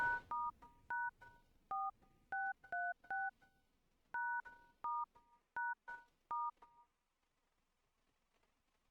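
Phone keypad tones on a smartwatch phone app beep in a quick, irregular series of short dual-tone presses, clear and isolated in a quiet room, then stop.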